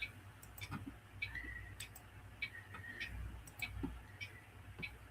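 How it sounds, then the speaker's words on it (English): A clock ticks faintly in the background, a steady regular series of soft clicks over quiet room ambience, with no one speaking. "I just realized I was hearing in the background this morning was the clock"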